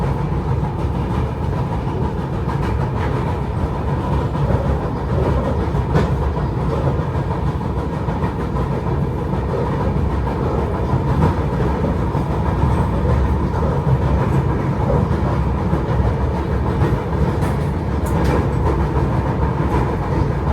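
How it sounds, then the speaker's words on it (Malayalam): The IRCTC Tejas Express rolls toward Surat station with a loud, continuous rumble heard from inside the coach. Steady wheel noise runs through it, with faint rhythmic clicks over the rail joints. "ട്രെയിൻ ഇപ്പോൾ സൂറത്ത് റെയിൽവേ സ്റ്റേഷനിലേക്ക് എത്തി."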